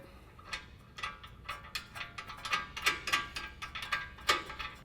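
A ratchet clicks in quick, uneven bursts while tightening the original tie rod nut on a Ford F-150 during a front suspension leveling kit install, faint and close with short pauses between strokes.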